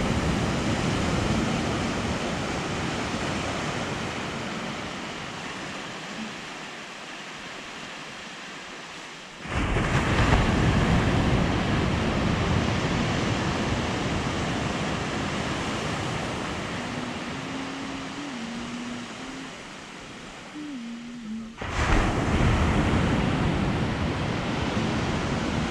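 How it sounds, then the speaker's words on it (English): Wind and ocean waves at Radhanagar Beach form a loud, continuous broadband roar, with surges swelling in abruptly twice as stronger gusts or breakers arrive. "Listen to the sound of the wind."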